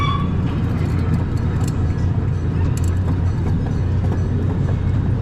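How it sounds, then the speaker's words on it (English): A quarter-scale replica of the 1893 Huntington train running on farm rails, giving a continuous low rumbling engine drone with rattling and clacking throughout, loud and close, with no talk. "As we take a ride down the rails, you are traveling on a quarter-scale, exact replica of the 1893 Huntington train."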